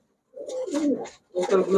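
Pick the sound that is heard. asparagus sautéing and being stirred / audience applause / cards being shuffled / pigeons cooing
pigeons cooing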